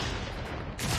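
AK-47 firing in COD Mobile, a loud, rapid automatic burst of gunfire that continues through the whole second.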